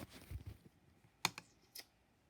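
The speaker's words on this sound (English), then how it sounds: "I'm just typing in the subject, just like a typical email" A few scattered keyboard keystrokes, sharp clicks with soft thuds around them, fairly close and quiet, ending in a pause.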